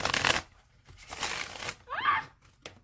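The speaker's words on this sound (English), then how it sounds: "I'm going to shuffle it 3 more times" A tarot card deck is shuffled close up in three quick riffling bursts separated by short pauses, crisp papery flutters ending with a brief tap.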